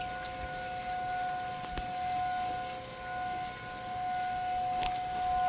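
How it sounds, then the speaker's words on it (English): Steady rain falls outdoors during a tornado warning, a soft continuous patter with faint lingering siren tones in the background and a few sharp taps. "I think the rain started at like 4 in the morning."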